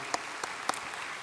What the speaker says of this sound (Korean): 우리 다시 한번 큰 박수 하도록 하겠습니다.